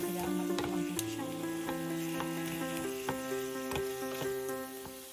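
Shrimp and ketchup sautéing in a pan, a steady close sizzle with light stirring clicks over a continuous tonal background hum.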